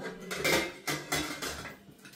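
A metal lid set onto a rice container inside a pressure cooker, a quick series of close clinks and scraping clatters with a few sharp metallic knocks, no voices.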